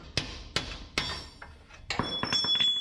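A hammer strikes metal suspension parts on a 1963 International Harvester Loadstar truck during an air bag install, with several sharp, ringing blows spaced irregularly, the last few coming quicker with a metallic clink.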